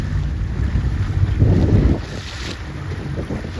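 Wind rushes and buffets the microphone aboard a sailboat during a 29er junior invitational race, with water sloshing underneath and a brief louder gust in the middle.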